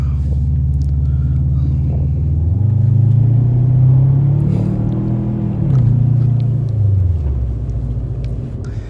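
A turbocharged 2005 Subaru Legacy GT on coilovers is driven through city streets, its engine rumbling low and steady as it revs up, holds, then eases back down. The sound is close and continuous, with no talking.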